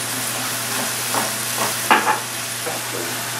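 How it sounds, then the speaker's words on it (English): Breakfast sausage browns in a pan with a steady low sizzle. Spatula strokes scrape and break it up in an uneven rhythm, with one sharper clatter near the middle, close and clear, with no talking. "You just keep cooking the sausage down until it's all done. Just keep stirring it around"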